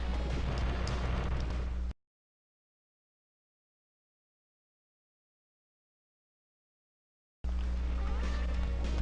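Rapid gunfire and blasts from the UN Squadron arcade shooter, flying an F-14D, play loudly in two dense bursts separated by several seconds of complete silence.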